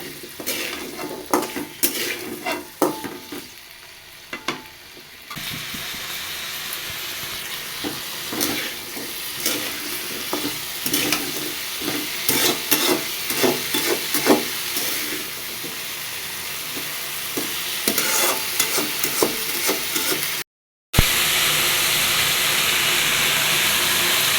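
Food sizzles steadily in a hot pan while a utensil stirs and scrapes it in frequent irregular strokes, loud and close, with one brief cut to silence near the end and no talking.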